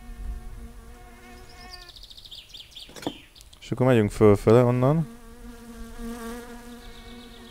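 Flies buzz in the video game My Summer Car, a whining, wavering drone that swells loudly for about a second in the middle of the clip. Someone talks casually before and after it.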